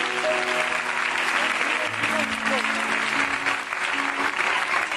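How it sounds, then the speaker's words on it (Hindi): Audience clapping hands at a Christian church meeting in Punjab, a dense, steady applause filling the whole stretch, with faint voices and tones underneath. "बरकत मिल रही है तो ताली बजाएं।"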